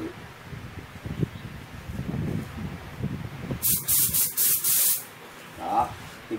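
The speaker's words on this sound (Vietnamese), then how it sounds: "Tôi sẽ thử bằng nước, tôi sẽ đổ một ít nước và tôi thử độ tơi mịn của súng" An Aeropro R-31 paint spray gun test-fired with water lets out a few loud, close hissing bursts in quick succession, after a stretch of low background voices and handling noise.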